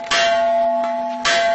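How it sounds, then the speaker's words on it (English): A bell tolls to call bison to feeding time on a farm in Siberia, with two loud metallic strikes about a second apart. Each strike is followed by a long, ringing hum that sustains between hits. "When the bell tolls, it's feeding time."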